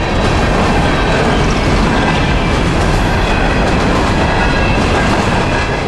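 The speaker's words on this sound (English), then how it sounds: "here's a northbound, throttled up and coming through. It's EO-15, empty coal hoppers out of Palatka, Florida" Loaded-to-empty northbound freight of empty coal hoppers rolls steadily past close by, a continuous loud rumble of wheels and cars with a rhythmic clickety-clack over the rails throughout, no voices.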